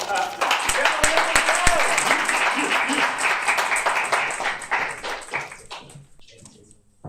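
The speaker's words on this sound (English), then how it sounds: "Another round of applause for Lily, please." An audience at a literary reading applauds steadily for several seconds, moderately loud and fairly close, before the clapping thins out and fades to near silence.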